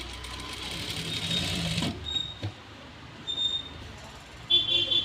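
A sewing machine stitching an embroidery blouse runs in a brief steady burst at moderate loudness, then stops, leaving quieter handling noises and faint voice-like sounds.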